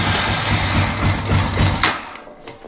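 Honda TRX350 ATV engine idling close up with a steady low rhythmic chug, then cutting off near the end, leaving only faint clicks.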